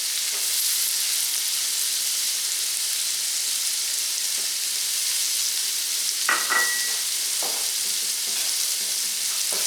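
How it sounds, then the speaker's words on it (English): Sliced mushrooms and finely diced onion sauté in butter, giving a steady, even sizzle with a few soft clinks from a utensil partway through. "I'm going to saute this just until the mushrooms begin to brown."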